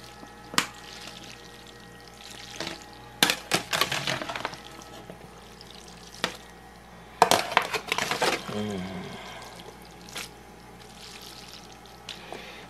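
Macaroni and cheese with bacon and shrimp is stirred in a pot, with scattered scraping clinks and wet, sloppy bursts that come and go irregularly.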